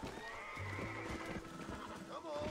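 A horse in Red Dead Redemption gives a brief agitated whinny with some hoof clatter, faint beneath a person talking over it.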